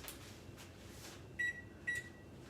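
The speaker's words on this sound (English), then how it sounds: "first I'm going to turn the oven on" A kitchen oven being switched on gives two short, clear electronic beeps about half a second apart, faint and close, over quiet room hum.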